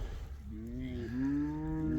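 Bull calves that got out of their fence, a close, drawn-out moo rising and wavering over about a second and a half, with a low background rumble.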